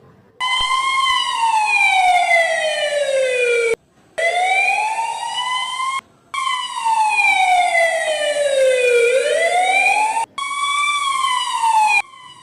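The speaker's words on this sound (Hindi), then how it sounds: "काय हो ये एम्बुलेंस कितने आई" A loud, close ambulance siren sweeps up and down in long wailing cycles, broken by a few short gaps, with no other sounds over it.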